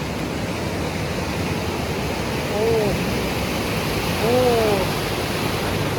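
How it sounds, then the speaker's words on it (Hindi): Strong, fast-flowing water at Nari Ghaaj near Sibi, Balochistan, rushing as a steady broadband roar throughout, with a faint tonal call rising briefly twice over it. "पानी का बहाव ज़्यादा है, डूब भी बंदा सकता है"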